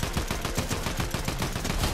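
Rapid automatic gunfire from the Fortnite video game rattles continuously for about two seconds, loud, dense and close, with no voices over it.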